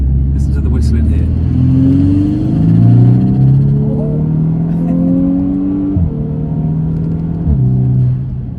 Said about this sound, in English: I know, it's little whistling noises, and listen to the whistling here.